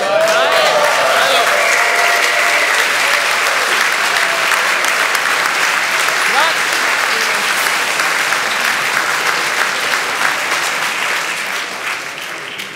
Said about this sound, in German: Das Publikum hat geklatscht